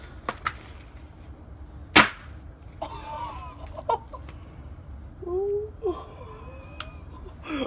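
Pellet gun shots fired at a TV come through as a couple of sharp cracks, followed by excited voices and squeaky exclamations in the background.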